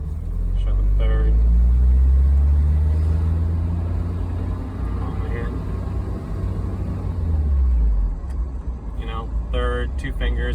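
A 1984 Spider's engine rumbles loud and deep inside the car as the driver shifts into third gear; the engine note drops and settles near the end, with brief voices at the close.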